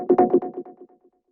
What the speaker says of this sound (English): the last sound that we have down here is the second chord stab